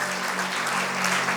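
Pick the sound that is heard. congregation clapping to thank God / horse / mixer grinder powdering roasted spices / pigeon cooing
congregation clapping to thank God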